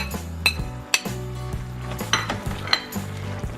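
Spinach being stirred into banana blossoms simmering in coconut milk: a spoon scrapes and clinks against the pot in a regular rhythm of several strokes over a soft sizzle, close up with no talk.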